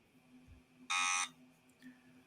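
A quiz-game buzzer sounds once in a round of a Pokémon trivia contest: a single loud, harsh electronic buzz lasting about a third of a second, standing out sharply over a quiet room.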